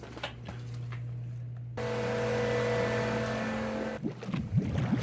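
A swimming pool cartridge filter pump is switched on, with a click followed by a steady motor hum and whine that runs evenly, then a clatter of handling noise as it keeps going.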